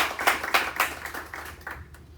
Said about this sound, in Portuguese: Palmas para todo mundo.